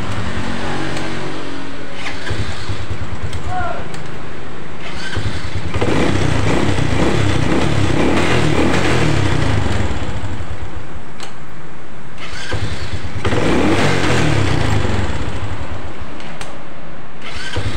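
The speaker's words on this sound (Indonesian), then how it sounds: "alhamdulillah sudah lancar ya rekan-rekan untuk double starter motor Supra X 125 ini" A Honda Supra X 125 motorcycle with a double-starter fault is started several times and revved, its engine rumbling loudly and swelling in repeated bursts close by.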